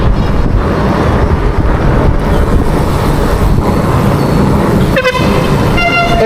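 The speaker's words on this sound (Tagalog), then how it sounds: "Grabe yung mga busina." Loud, steady traffic rumble with car horns sounding in the mix, a sharper honk standing out near the end, in Makati traffic on the way to BGC.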